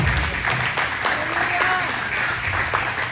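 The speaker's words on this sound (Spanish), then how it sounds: "Denle un aplauso al Señor." Church congregation applauding together, a steady wash of clapping that fills the whole short stretch with a voice or two faintly mixed in.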